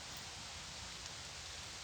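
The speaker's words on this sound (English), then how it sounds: "now it's raining quite starting to rain more and more" Rain falls outdoors in a suburban setting at dusk as a faint, even wash of steady noise with no distinct drops or other sounds standing out.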